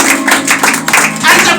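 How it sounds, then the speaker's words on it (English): A church congregation claps together during a worship service, a dense burst of hand claps close and loud, lasting under two seconds with voices mixed in. "Clap for Jesus."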